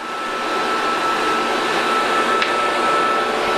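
A polishing machine works the inside of a platinum ring, giving a steady, loud whirring hiss that runs unbroken with one brief sharp scrape partway through.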